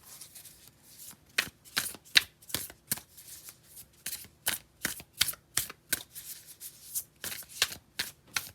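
Tarot cards being shuffled by hand during a reading, a steady run of crisp, close riffling bursts repeating about every half second, alone with no talk.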